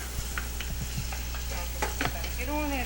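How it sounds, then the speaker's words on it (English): Onions and garlic caramelize in a pan for a Hungarian goulash, a steady close sizzle broken by scraping stirs and light utensil clicks. "Give it a little stir, make sure it's not burning. Caramelizing the onions and the garlic together."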